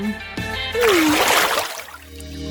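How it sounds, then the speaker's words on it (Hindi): A cartoon vegetable is dropped into water, giving a short, bright splash with sloshing. Just before the splash comes a sliding whistle-like tone, and faint background tones run underneath. "वो उसे पानी में क्यों डाल रही है?"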